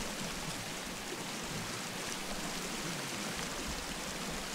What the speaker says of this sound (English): If the water wasn't so loud here, I'd love to build here.